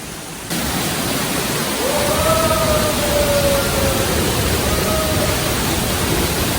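Waterfall in Bali, a loud, steady broadband roar of falling water with no talk, joined by a faint whistling tone in the middle.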